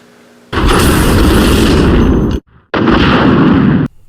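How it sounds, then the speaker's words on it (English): Rocket launcher in a Resident Evil video game: a loud, sustained blast with rumbling roar that lasts nearly two seconds, cuts off briefly, then a second equally loud, long explosion follows. "Resident Evil's best trope, the rocket launcher"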